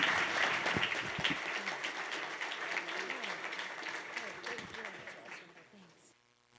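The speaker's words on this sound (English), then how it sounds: "But one more round of applause." Audience applause at the AI Horizons Pittsburgh Summit, dense and sustained, then gradually thinning and fading out by the end, with a voice audible over it partway through.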